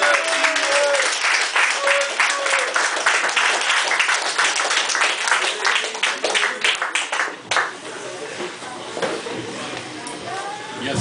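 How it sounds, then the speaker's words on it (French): A crowd at a slam poetry night in a café gives loud, close applause that fills most of the stretch, then thins into scattered claps, with voices in the background. "je pense qu'il mérite un tonnerre d'applaudissements"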